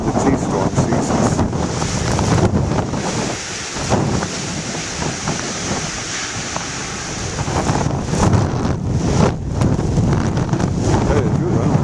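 Big ocean waves roll and crash in a steady, loud broadband wash, with heavy wind buffeting the microphone throughout and brief lulls between surges.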